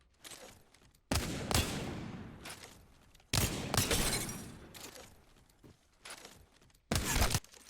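Wingman pistol shots ring out in Apex Legends as three heavy blasts, each ending in a long ringing decay, spaced a couple of seconds apart and loud and close.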